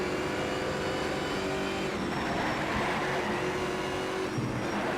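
Car engine in Need for Speed Shift 2: Unleashed, a steady, loud, continuous roar with slight shifts in pitch and tire noise, heard throughout without talk.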